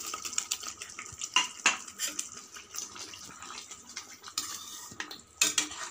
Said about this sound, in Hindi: अब इसमें मैं ये चक्की डाल रही हूँ।